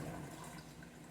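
Coolant pours into the reservoir of a 2011 Mercedes GLK 350 (M272 engine), a close, continuous liquid gurgle and splash lasting about a second, with no talking.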